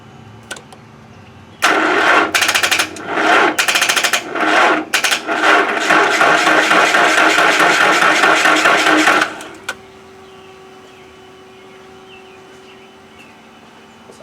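The engine of a 1995 Nissan cranks over with a loud, rapid starter whir lasting several seconds, broken by brief gaps, then cuts off, leaving a low steady hum.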